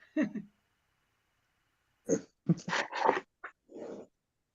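A dog whimpers and whines in several short, separate bursts at close range, with quiet gaps between them and no talk over the sound.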